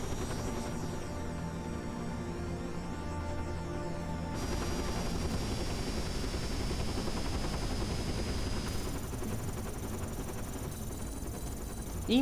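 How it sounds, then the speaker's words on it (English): A small helicopter in the video game Dirge of Cerberus makes a continuous droning rotor and engine whir, steady and loud with layered game noise and tones over it, and no talking. "Time to destroy this small helicopter."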